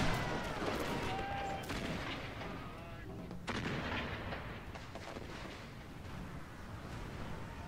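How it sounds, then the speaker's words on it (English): Massed rifle volleys crackle and boom in a Battle of Gaza war video game, dense overlapping gunfire with sharp reports and a rolling rumble, loud and continuous, with a brief voice in the mix. "Get those rifles rattling."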